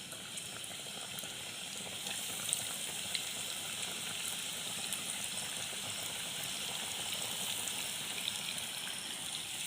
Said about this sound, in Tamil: நம்ம ஃப்ரை பண்ணுவோம்.